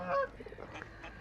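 Birds, goose-like, give a close honk while attacking, followed by a few softer, quieter calls and rustling, with no talk.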